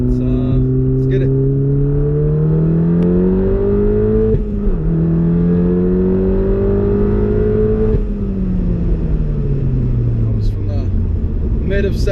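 A VW MK7 Golf R fitted with an APR dogbone mount insert pulls hard with windows up from mid second gear through the top of third to about 90 mph. Heard from inside, the loud engine drone climbs steadily in pitch, breaking briefly at the gear change.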